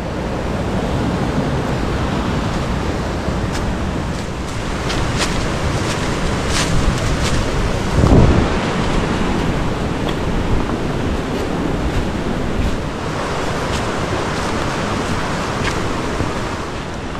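Small cascades of water spill along the Jones Gap trail near Rainbow Falls, giving a steady, broad rushing roar that stays fairly close and even throughout, with no voices.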